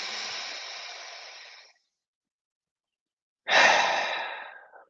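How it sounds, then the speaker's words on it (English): A person breathes deeply during a breathwork session, with two long, rushing breath sounds separated by a short silence. The second breath starts sharply and tapers off, close and clear with no talking. "breathe in deeper than the previous one. And exhale just a bit more sharply, a bit more quickly on the exhale through the mouth."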